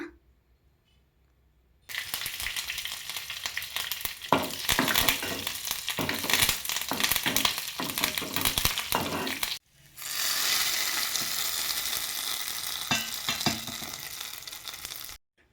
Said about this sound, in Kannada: ಒಂದು ಪಾತ್ರೆಗೆ ಒಂದು ತ್ರೀ ಸ್ಪೂನ್ ಆಯಿಲ್ ಸಾಸಿವೆ ಒಣಮೆಣಸಿನಕಾಯಿ ಕರ್ಬೇವಿನ ಸೊಪ್ಪು ಬೇಳೆ ಎಲ್ಲ ಹಾಕ್ಕೊಂಡು ಒಗ್ಗರಣೆ ಮಾಡ್ಕೊಳ್ಳೋಣ